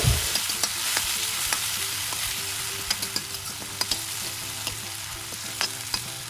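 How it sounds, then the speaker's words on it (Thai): Chili and garlic stir-fried in hot oil in a wok for beef liver, a bright continuous sizzle broken by repeated sharp spatula scrapes and taps, close and without speech. "พอน้ำมันเริ่มร้อนใส่พริกกับกระเทียมลงไป ผัดให้มีกลิ่นหอม"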